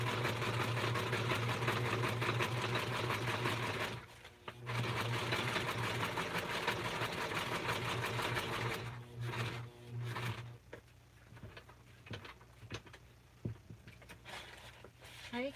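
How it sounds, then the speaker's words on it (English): A sewing machine stitches a zigzag along the edge of a handmade junk journal piece, running in a steady whirring buzz, stopping briefly around four seconds and again near ten, then continuing in shorter, uneven bursts. "I'm just gonna do a zigzag stitch around the edge."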